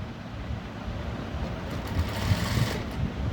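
A sewing machine stitching a blouse shoulder runs in a low, steady mechanical hum with a soft rapid chatter, a few slightly louder bursts toward the end, no voices.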